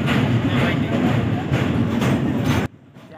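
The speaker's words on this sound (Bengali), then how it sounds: "তারপর ট্রেনটা আবার অন্ধকারের মধ্যে চলতে শুরু করলো" A passenger train rolls along the tracks at night with a loud, continuous rumble and rhythmic clatter heard from close by, then cuts off abruptly near the end to a faint quiet.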